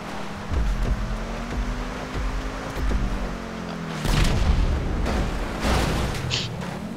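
A deep, rumbling explosion in Grand Theft Auto V as wind turbines are blown up, with low booming bursts and crackling debris, followed by a second heavy blast partway through, loud and close.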